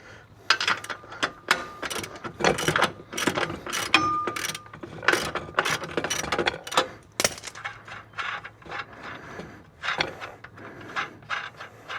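A ratchet wrench fitted with a deep socket clicks rapidly in repeated bursts of close, crisp metallic ratcheting, pausing briefly between strokes.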